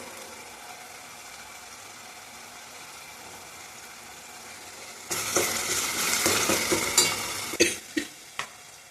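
Ginger garlic paste frying in a pan, a low steady sizzle that swells into louder, brighter crackling once the paste hits the oil, with a few sharp stirring clinks near the end.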